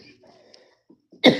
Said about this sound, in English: I'm coughing because the shit went down the wrong pipe.